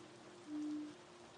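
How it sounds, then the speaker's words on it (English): Wind-driven rain against stone walls at night, a steady soft hiss of falling water that stays faint and even throughout, with no voices. "as the wind stirred the rain against the stone walls, Kira opened the journal and began to write."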